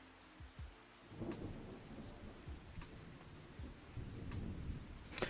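Steady rain patters down while low thunder rumbles roll in and out, with a louder crack near the end, in the video game Farming Simulator 25; no voices.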